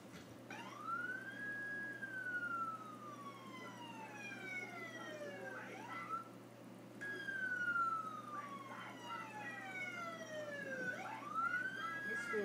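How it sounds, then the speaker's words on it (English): Police sirens from more than one police car wail in long rising and falling sweeps, overlapping over a steady low rumble of traffic in an American city. "the police turned on the sirens of their police cars to drown out the girls' voices"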